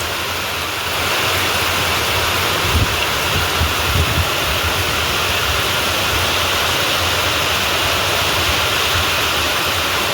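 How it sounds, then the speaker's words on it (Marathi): Heavy monsoon rain pours down, water streaming off a roof gutter in a loud, unbroken rushing roar that fills the whole stretch, with no voices. "आता पन्हाळीवरून तुमच्या लक्षात आलंच असेल की पाऊस किती जोरात चालू आहे"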